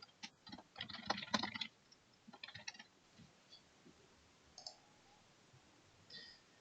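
Computer keyboard typing and mouse clicks come in short bursts of rapid, light taps followed by sparser single clicks, close and quiet, with no voices.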